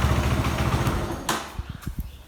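A Benelli TNT25 motorcycle engine idles with a steady low rumble, then a sharp click cuts it off, followed by a few soft ticking clunks as it falls quiet, close by.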